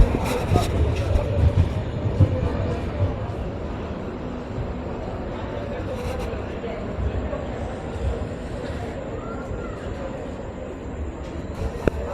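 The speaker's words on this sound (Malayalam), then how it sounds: "ട്രെയിൻ പോവാണ്." A train pulls away from a station, a continuous rumble of rolling wheels and carriages heard close by, steady throughout with some faint background voices.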